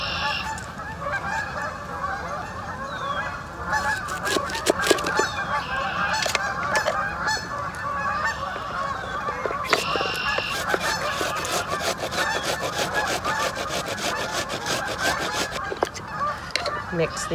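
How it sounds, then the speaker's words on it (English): Geese honking loudly and continuously near a woodland bushcraft campsite, a dense flock of overlapping calls with occasional sharper clicks and knocks, no speech. "Wow, those geese are still going."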